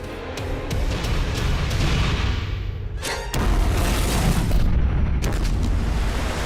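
A cartoon methane explosion inside a cave: a loud, rumbling boom that roars on, breaks off briefly, then bursts again with heavy, sustained blasting noise.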